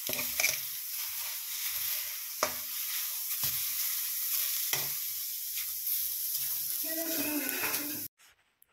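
Cauliflower is stir-fried dry in a pan for a spicy filling: a steady sizzle with scraping stirs of a spatula and occasional clacks against the pan, close and continuous for about eight seconds before stopping.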